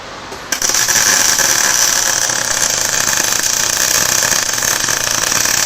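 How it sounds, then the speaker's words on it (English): A root arc MIG weld, a modified short circuit process, strikes up after half a second and then holds a loud, steady crackling buzz without a break for the rest of the clip. "we're using a process called root arc from EWM. It is a modified short circuit process."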